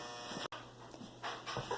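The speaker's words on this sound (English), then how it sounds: "dryer's super loud" A clothes dryer runs with a loud, steady rumbling whir that fills the room. The noise cuts out for an instant, then carries on unchanged.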